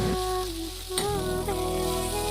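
Onion, capsicum, garlic and green chili sautéing in hot oil for veg Manchurian: a steady, close sizzle with faint stirring, running without a break alongside a few sustained tonal lines.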